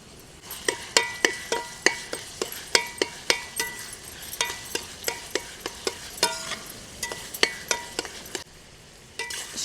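Ginger garlic paste frying in a pan for a quail egg curry, with steady sizzling under rapid rhythmic metallic clinks of a spoon stirring against the pan, close and continuous.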